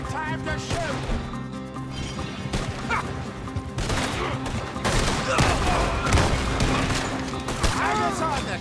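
Gunfire in the Red Dead Redemption 2 video game during a fight with liquor-running gang members, with dense overlapping shots, music and voices running through the whole stretch.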